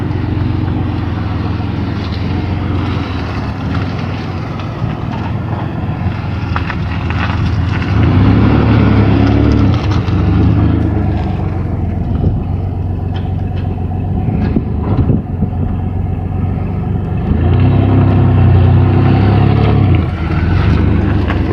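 A four-wheel drive pickup truck idles and drives with a loud, close engine drone that swells in two stretches of heavier revving, continuous and without talk.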